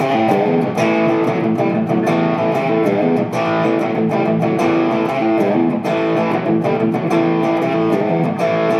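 Electric guitar runs through an overdrive pedal for a crunchy, distorted tone, strummed chords ringing continuously and loudly with rhythmic attacks, while a brief spoken word is heard.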